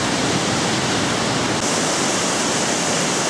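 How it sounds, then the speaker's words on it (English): A stream swollen after a storm on a countryside walk near Henley and Hambleden rushes steadily, a dense, loud, unbroken roar of water heard up close with no voices. "Force of that water."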